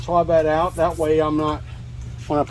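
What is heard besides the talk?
None of the usual background noises is heard.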